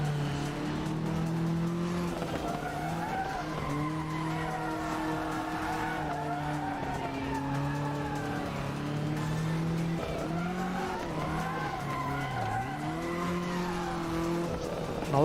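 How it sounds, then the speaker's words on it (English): Tires squeal steadily as a Toyota 86 drifts after the driver lifts off the throttle, with a loud engine wavering in pitch underneath the long continuous screech, close and unbroken for the whole stretch. "All I've got to do is lift and it will drift."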